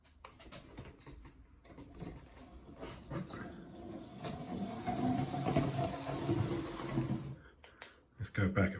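A model 0-4-0 steam locomotive runs with its motor whirring and clicking, steady mechanical chatter that builds through the middle, close and fairly quiet, with a voice talking over it.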